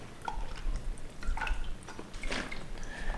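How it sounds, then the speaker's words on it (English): Water runs and drips as spray gun parts get a final rinse at a kitchen sink, with soft splashing and trickling throughout and a brief louder gush near the end. "Final rinse."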